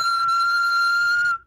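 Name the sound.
person attempting to whistle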